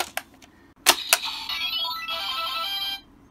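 A short electronic jingle from a Kamen Rider Build DX Rabbit Tank Sparkling toy transformation item, with bright chiming tones after a couple of clicks, ringing steadily for about two seconds before cutting off.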